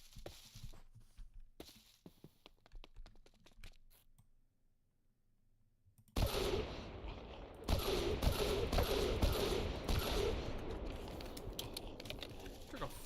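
Automatic gunfire in Deceasedcraft empties a full magazine into a demolisher: scattered light clicks at first, then a sudden loud burst of rapid, densely packed shots that keeps hammering for several seconds.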